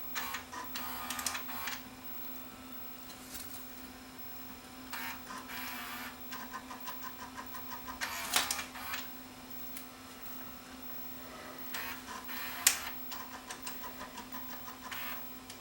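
A Sony SLV585 VCR tape mechanism runs in reverse, giving a steady faint motor hum with bursts of rapid mechanical ticking and clicking that come and go over several seconds, heard close with no voices.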